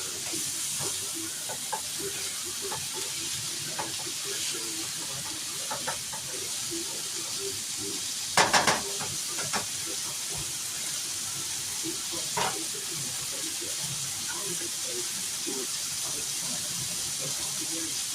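Scrambled eggs sizzling in a pan on a Saturday morning, a soft continuous hiss and crackle with scattered pops and a brief louder clatter midway, heard close under occasional low voices.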